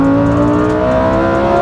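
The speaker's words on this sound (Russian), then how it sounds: "Особенно за счет кричащего V10 за спиной." Lamborghini Huracan Performante V10 engine screaming loudly and close, a sustained high-pitched wail with steady harmonic tones and no talk over it.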